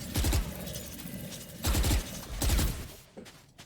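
Swarm grenade detonating during a tactical shooter match, heard as three loud, booming bursts in quick succession, each a short cluster of concussive pops, followed by a quieter tail of faint clicks.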